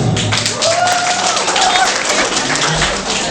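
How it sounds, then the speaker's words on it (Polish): Wedding guests applauding for the men after a performance, lively crowd clapping with whoops and voices mixed in, fairly loud and close. "Wielkie brawa dla panów."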